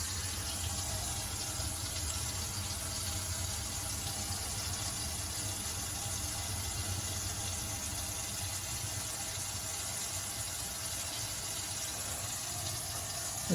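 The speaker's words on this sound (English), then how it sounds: "Make sure it's flowing through and there's no leaks." Water runs steadily through a newly reconnected sink drain, a constant broadband rushing flow that stays even and unbroken throughout.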